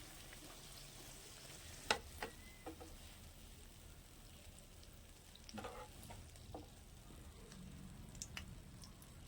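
Cabbage snacks frying in oil, a quiet low bubbling sizzle with a few sharp clinks and scraping sounds as pieces are moved and lifted out, faint and close, without talk.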